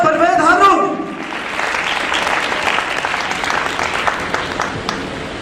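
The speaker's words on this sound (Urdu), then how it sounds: "پرزور تالیوں میں استقبال کیجیے" A voice speaks briefly, then an audience at a naat competition bursts into loud, sustained applause welcoming a district president to the stage, many hands clapping close and steady.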